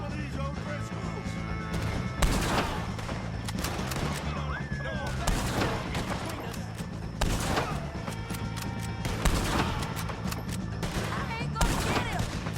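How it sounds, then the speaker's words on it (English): Heavy gunfire in a Red Dead Redemption 2 shootout against O'Driscoll gang members, with repeated loud shots and crashing impacts every second or two over a low rumbling score, while voices shout in between. "shoot some of these O'Driscolls!"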